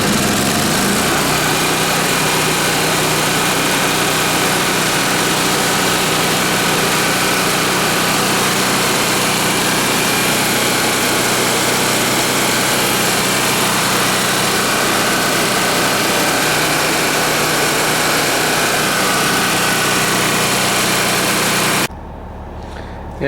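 Onan AJ 1R single-cylinder genset engine running steadily and loud throughout with a constant buzzing drone, cutting off abruptly near the end.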